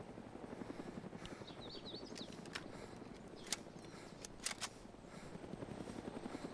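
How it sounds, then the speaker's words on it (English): Helicopter in the video game DayZ, its steady rotor chop throbbing continuously at moderate distance, with a few sharp clicks and brief high tones breaking through. "I want to kill me a helicopter."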